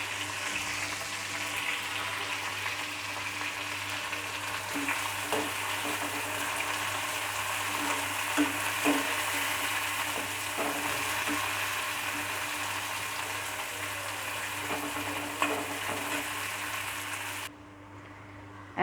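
Onion and curry leaves frying in a pan for tomato rice, a steady broadband sizzle holding for most of the clip with a few faint clinks, then dropping away sharply near the end.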